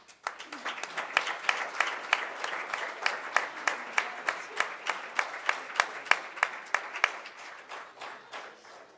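Audience at a school board of education meeting giving a round of applause, steady clapping with distinct individual claps standing out near the front, fading out at the end.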